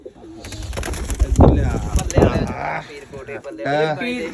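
Pigeons coo in a low, throaty warble while people talk loudly nearby, their voices overlapping the birds throughout.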